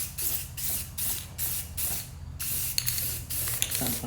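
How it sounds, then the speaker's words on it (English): A 1972 Honda CL350 motorcycle frame gets spray painted in repeated hissing aerosol bursts, about eight short even strokes in quick rhythm, close and steady, with a few light clicks between. "We're shaking our paint. And let's do it. Nice easy strokes."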